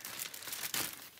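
Cellophane wrap on a kit box crinkles in one short, continuous close-up burst of crackling with no speech.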